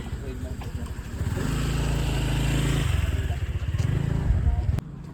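A motorcycle engine hums and revs close by, with people talking over it.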